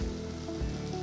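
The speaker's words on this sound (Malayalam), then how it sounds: "ഇതിവിടെ നന്നായിട്ടൊന്ന് വഴറ്റിയെടുക്കാം." Soft sizzling of masala sautéing in a pan for mutton biryani, with chili and coriander powder, a faint steady fry heard briefly and alone.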